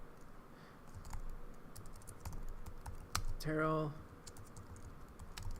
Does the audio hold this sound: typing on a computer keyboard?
yes